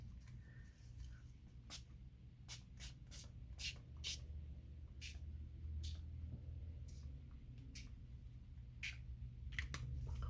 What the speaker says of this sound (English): See if we can't get this spray to work